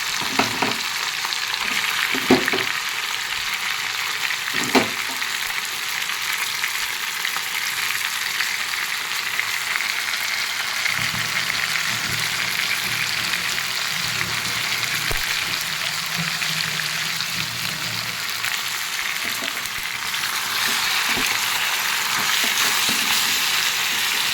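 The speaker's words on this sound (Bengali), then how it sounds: "মাংসটা এর মধ্যে দিয়ে দেবো।" Marinated chicken pieces fry in a pan for chicken chap, giving a steady, loud, close sizzle with occasional stirring clicks and no talking.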